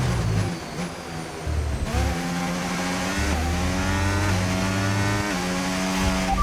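An F1 race car engine in the F1 25 video game screams at high revs, rising through repeated upshifts with brief dips between gears, loud and close throughout.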